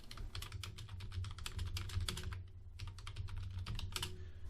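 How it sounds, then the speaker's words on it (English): Steady typing on a computer keyboard fills the clip, a continuous run of quick, close key clicks at an even pace with no talk, heard quietly over a low background hum. "The description field is where we can type in by hand"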